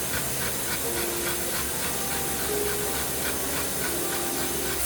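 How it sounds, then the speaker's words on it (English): A pot of water at a rolling boil on a home stove, a steady close hiss with faint bubbling and no voices. "so our water is boiling now,"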